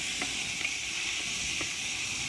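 Camel meat and its fat mixed in a pot give a steady bright sizzle with faint crackles popping through, continuous and close.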